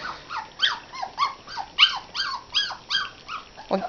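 Cane Corso Italiano puppies, about 25 days old, at lunchtime make a run of close, repeated high whines and yips in rapid succession, each a short rising-falling cry with no talk over them.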